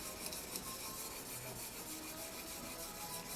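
Plane iron rubbed on an oiled sharpening stone gives a faint, steady scraping hiss in even back-and-forth strokes, no voices.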